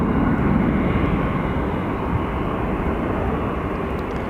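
An American Airlines Airbus jet at Phoenix Sky Harbor Airport gives off a steady, loud broadband roar of engines and rushing air that holds level throughout, with no voices.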